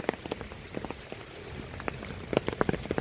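Rain falls outdoors in a steady, soft patter, with scattered close drops ticking sharply on a surface and a few louder clusters near the end, no voices.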